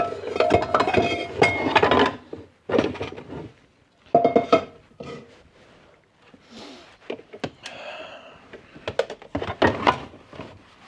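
A large saucepan dragged out from the bottom of a stack of pots and pans, giving several bursts of clanking metal and clinking separated by short pauses, close and fairly loud, with no talk over it.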